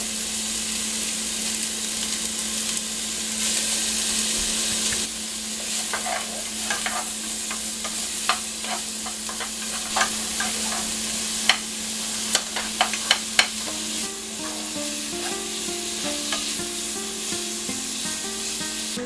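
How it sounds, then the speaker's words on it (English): Onions frying in hamburger fat for chili, a steady sizzle under repeated scraping and stirring strokes in the pan, with a constant hum behind and a cluster of sharper knocks toward the end. "I'm going to throw my onions in and get them caramelizing"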